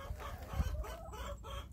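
A hen broods eggs in a henhouse and gives soft, low clucks and murmurs, close and steady through a short moment, with no voices.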